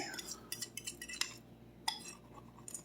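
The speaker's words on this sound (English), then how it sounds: "we're just going to mix that in real quick" Cheeseburger pie ingredients are mixed in a bowl with a utensil. The clip holds a series of light metallic clinks and scrapes, close and irregular, with no speech.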